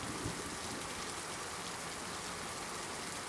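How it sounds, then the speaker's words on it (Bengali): A heavy downpour of rain, a dense, even hiss of falling water that stays faint and steady, with no voices over it. "বাইরে মুষলধারে বৃষ্টি হচ্ছে।"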